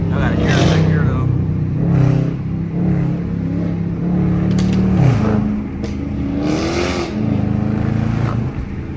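A Dodge Hellcat widebody engine revs hard and loud, rising and falling in pitch with a throaty roar, while voices talk faintly underneath.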